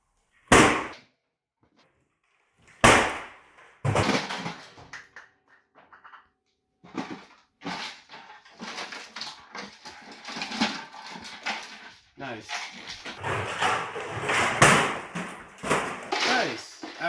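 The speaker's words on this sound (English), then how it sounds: "After a couple of slams to the ground," A car headlight assembly is slammed against the ground several times, giving sharp, loud cracks and thuds separated by pauses, followed by clattering debris and scraping, with people talking at moments.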